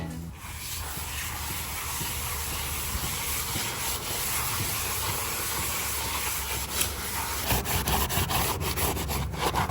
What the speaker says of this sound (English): So hopefully this Scotch-Brite's doing its job there and getting off contaminants, and clearly it's getting the chunks of paint off